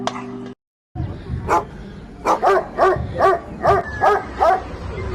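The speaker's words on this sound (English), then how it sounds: "you may never hear the barking of a live dog" A dog barks about eight times in an uneven rhythm, each bark loud and close, after a brief moment of silence.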